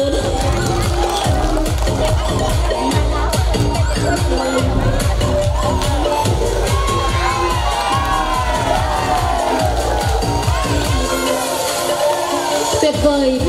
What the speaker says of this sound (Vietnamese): Cả quý vị hãy cho những người mẫu hài này một tràng pháo tay thật lớn.